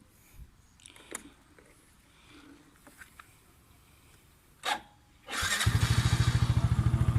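Quiet handling noises and a few thumps, then a 2014 Yamaha Spark 115 Fi motorcycle engine fires up abruptly on the first try and settles into a loud, steady, rapid idle.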